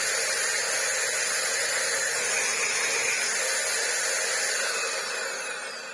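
A Shark AX950 vacuum cleaner, just fitted with a replacement brushroll motor, is switched on and runs with a loud, steady broadband whirring roar that eases slightly near the end. No voices are heard.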